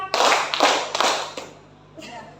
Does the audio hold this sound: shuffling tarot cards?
no